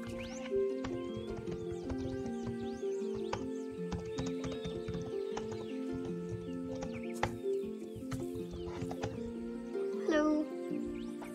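A Finnhorse's hooves clip-clop steadily nearby, with a brief whinny near the end and faint birdsong in the background.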